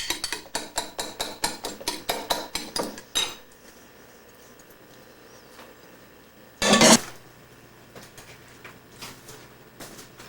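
Beaten egg stirred into meatball mixture in a bowl, a rapid run of bright clinks from the utensil against the bowl for about three seconds, then quiet with a single loud, brief rustling burst later on.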